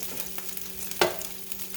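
Steak strips sizzle and fry in a pan, a steady quiet crackle with one sharp stirring clatter partway through and no talking.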